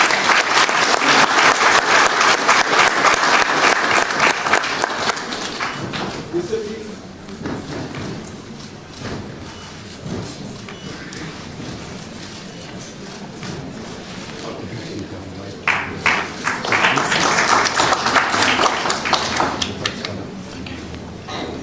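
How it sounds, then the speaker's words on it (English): Loud applause from an audience at a formal government handover ceremony, clapping steadily for about six seconds, dropping to murmuring and shuffling, then swelling into another burst of clapping toward the end. "Let's have a round of applause."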